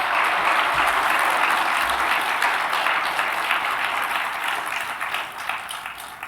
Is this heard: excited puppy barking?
no